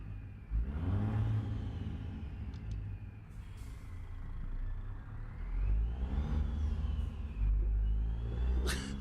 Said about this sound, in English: This truck, in a confined, echoey space, just sounds proper brilliant.